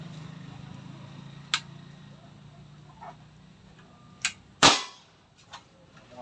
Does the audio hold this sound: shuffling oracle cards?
no